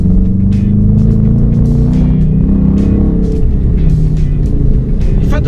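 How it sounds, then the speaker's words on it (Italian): A 2017 Dodge Challenger's engine drones loud and close, with shifts made through the paddle shifters and small dips and rises in the rumble as gears change, steady throughout. "Le marce si cambiano con le palette che sono dietro al volante."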